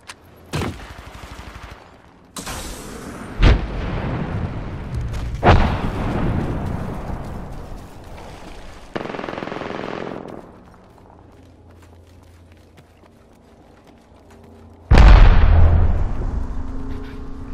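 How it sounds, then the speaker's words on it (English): Loud bursts of video game gunfire and explosive blasts, several heavy impacts spaced across the clip with rumbling decay between them. "we hear that they engage in gunfire"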